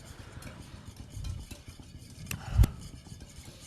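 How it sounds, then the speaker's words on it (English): An egg is whisked in a pan in a kitchen: soft, quick scraping and tapping strokes, fairly faint, with one sharper clink of the whisk against the pan near the end. "I'm whisking."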